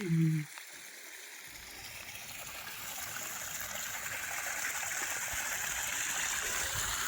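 Irrigation water flows into a field channel as a steady, broad rushing and gushing that swells gradually louder, after a short spoken voice at the very start.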